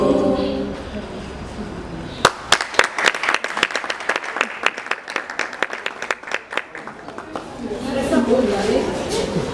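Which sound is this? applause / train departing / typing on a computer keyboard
applause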